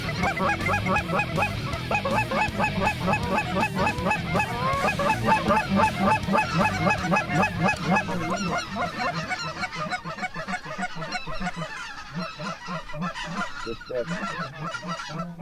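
A large flock of white-fronted geese honks continuously during a waterfowl hunt, the overlapping calls close and loud before thinning and fading somewhat toward the end.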